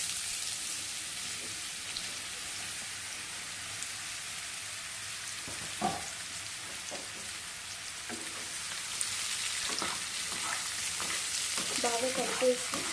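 Chopped ridge gourd sizzling and frying in a pan, a steady hiss like rain throughout, with occasional scraping and clinking as a spatula stirs it, growing busier toward the end.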